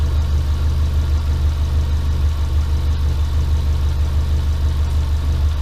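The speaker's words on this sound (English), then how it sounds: "So I'm going to let it sit and idle for a little while" A rebuilt Subaru Impreza engine idles steadily with a low, even drone, running continuously at close range with no voices.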